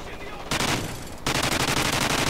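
A minigun fires in a video game in two long, loud sustained bursts of rapid rattling shots, separated by a brief lull.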